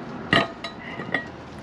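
Skillet pan set on a compact backpacking gas stove gives a sharp metallic clank followed by a few lighter clinks and taps, fairly quiet and close.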